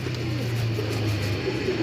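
Pigeons cooing close by, soft repeated throaty coos over a constant background hum.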